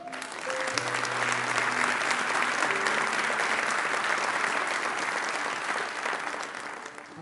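A church congregation applauds together in steady, full clapping that swells and holds for several seconds, loud and close, with no voices over it.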